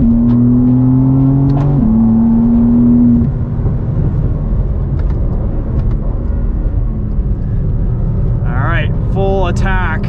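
A 2023 BMW M4 CSL engine accelerating hard on a race track, a loud droning roar with rising gear pitches, a shift near the start and tyre or engine whine toward the end, with a voice speaking over it from inside the car.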